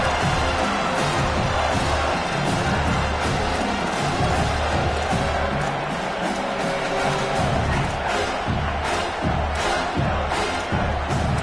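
Stadium crowd roaring and cheering in a college football video game, a loud, continuous dense wall of noise on a third-down red zone play, with a faint commentator voice buried under the din.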